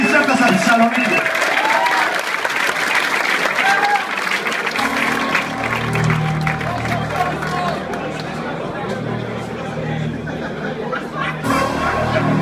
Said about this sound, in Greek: Κύριος Βασίλης Τοπαλίδης, σας παρακαλώ ένα μεγάλο χειροκρότημα